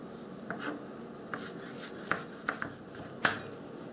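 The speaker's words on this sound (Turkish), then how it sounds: "diş sarımsağımız vardı hatırlarsanız. Onu da elimizden geldiğince ufak doğruyoruz." A knife chops garlic cloves finely on a board, a handful of sharp irregular taps spaced about a second apart, quiet and close.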